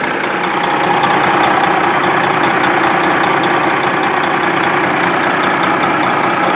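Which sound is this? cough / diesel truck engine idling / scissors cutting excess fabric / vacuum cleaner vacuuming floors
diesel truck engine idling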